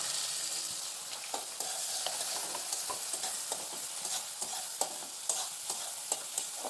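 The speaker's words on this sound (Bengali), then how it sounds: "পেঁয়াজটা একটু লাল করে ভেজে নেব।" Chopped onion fries in oil after an asafoetida tempering for a taro flower curry: a steady, bright sizzle runs throughout with small scraping stir ticks at irregular intervals, moderately close and fairly quiet, with no voices.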